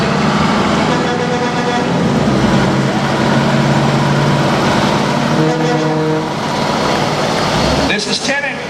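A 1971 Ford W9000, a low-mileage forward test truck, rumbles past in a Labor Day truck parade in Holland/Zeeland, its steady engine drone running under continuous announcer talk, with a brief horn-like burst near the end.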